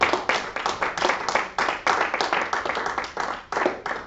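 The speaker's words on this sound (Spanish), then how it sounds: "Denle un aplauso al Rey." A church congregation at a Sunday service claps in rhythmic, evenly spaced bursts, loud and close, keeping a steady beat for several seconds.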